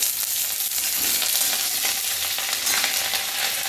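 Onion and green chili frying in hot oil with black mustard seeds, a steady, dense sizzle up close with faint stirring scrapes, continuous and without pauses.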